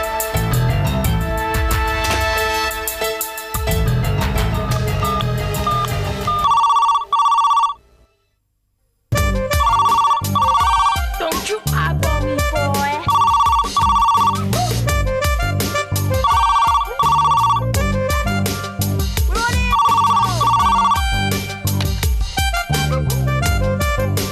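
A telephone bell rings in repeated short bursts within a Tamil television serial scene, loud and clear over a steady background of music and sound effects, with a brief silent gap partway through.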